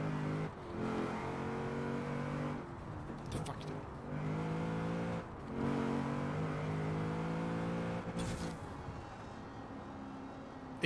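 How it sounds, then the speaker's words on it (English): A car engine revving hard and accelerating in the racing game Forza Horizon 4, steady loud engine drone with rising pitch and short breaks for gear shifts. "when you eventually push the throttle down, when you eventually accelerate like crazy"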